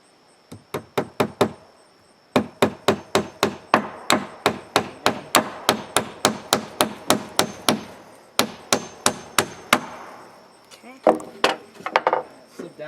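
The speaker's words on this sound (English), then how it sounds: "Hammering closer." Hammer blows strike a board with nothing backing it underneath, a long run of sharp, evenly spaced knocks in quick rhythm. The blows pause briefly, resume, and end with a few scattered hits close by.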